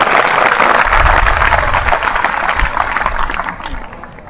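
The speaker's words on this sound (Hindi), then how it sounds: "इन सभी वैज्ञानिकों के लिए एक बार पुनः जोरदार ताली।" A loud burst of audience applause for the Chandrayaan-3 mission scientists, a thick wash of clapping that holds strong, then thins and fades toward the end.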